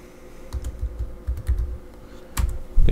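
Keys clatter on a computer keyboard in short irregular bursts, with a sharper, louder keystroke near the end like Enter being pressed; close and alone, no talk.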